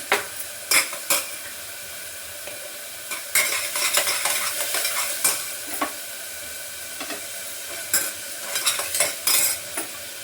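Onion frying in a hot kadhai with salt added, a continuous crackling sizzle punctuated by repeated scraping and knocking of a spoon stirring against the pan.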